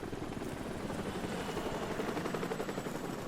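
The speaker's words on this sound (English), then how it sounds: "before the choppers come in to drop more troops" Helicopters arriving in Call of Duty: Modern Warfare, a dense, steady rotor drone that stays loud and close throughout with faint crackles of gunfire beneath it.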